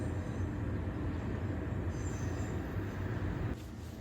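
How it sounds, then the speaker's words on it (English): A train rumbles past close by, a steady heavy roar with rattling wheels and faint high squeals, easing off slightly near the end. "right now we are being interrupted by the train"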